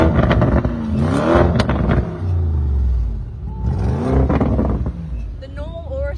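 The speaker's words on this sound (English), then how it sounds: "The normal Urus sounds amazing. This sounds extreme." Lamborghini Urus SUV revving in Corsa mode with the exhaust open, heard from behind the car: loud rising and falling engine roars in two bursts, pops and crackles between, with someone talking during the revs.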